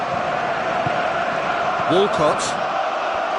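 A stadium crowd roars steadily in a football video game on PS4, a dense, continuous wall of cheering and murmur that sits under an energetic commentator's voice.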